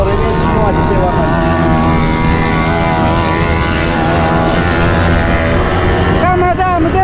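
Rented motorbikes run in a desert amusement area, a steady loud engine drone with shifting harmonic pitch throughout, revving slightly near the end, while people talk over it.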